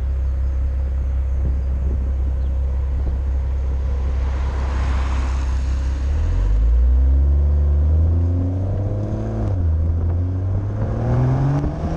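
A BMW M140i idles with a deep rumble, then revs up in several rising and falling sweeps that grow louder and nearer, with no voices over it.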